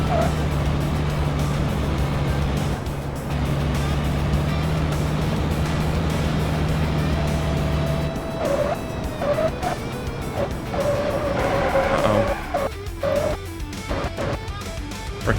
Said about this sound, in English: I think the effects of like the tires and stuff might be just a little bit too loud